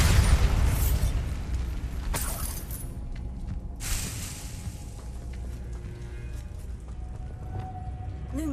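A Bombarda blasting spell exploding in Hogwarts Legacy, loud bursts of rumbling blast at the start and again around two and four seconds, then fading debris and ambient game sound.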